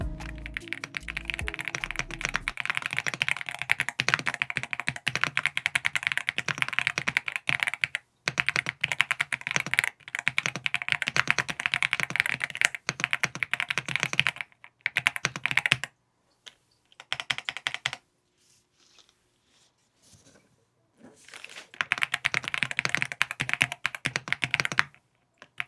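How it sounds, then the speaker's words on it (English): Steady typing on a YUNZII AL68 mechanical keyboard with Milk V2 switches, crisp clacky keystrokes in quick bursts with a few short pauses, close and clear with no talking. "Here's a quick sound test so that you can hear exactly what the Milk V2 switches sound like"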